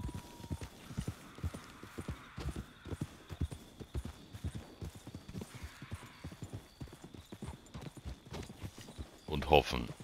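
Horse hooves clip-clopping at a steady gallop in the video game Red Dead Redemption 2, a rhythmic run of close thuds that continues under someone talking.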